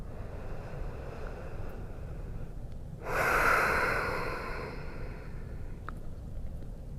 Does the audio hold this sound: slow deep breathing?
yes